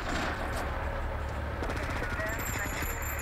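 Automatic gunfire rattles in Grand Theft Auto V as military personnel are shot in a city street, with rapid continuous bursts over steady game background noise.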